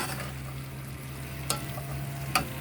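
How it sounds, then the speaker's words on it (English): Food fries with a steady low sizzle in a pan, and two sharp scrapes of stirring cut through close by. "I'm stirring, and it looks great."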